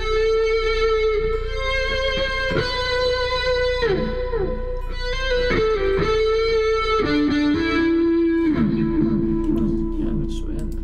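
Electric guitar played through Amplitube 3 amp-simulator distortion, sustained distorted notes and bends with a thick, buzzing harmonic tone, ringing loud and continuous with no talking.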